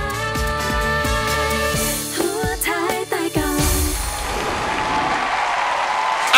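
Studio audience applause on a Thai TV game show, rising as a broad wash of clapping after a musical sting fades, continuing steadily to the end.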